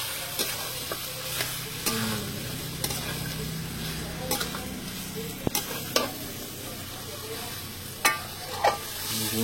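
Chicken cooking with masala in a pan, sautéed and stirred for a long time for Baripada mudhi mansa, with a continuous sizzle and frequent sharp scrapes and clinks of the stirring spoon.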